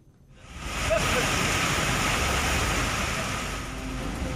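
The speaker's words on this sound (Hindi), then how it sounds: "अचानक से पहाड़ी नदी में तेजी से पानी आ जाता है" Flood water rushing down a mountain river during heavy rain, a dense roaring wash that swells up within the first second and then holds loud and steady to the end.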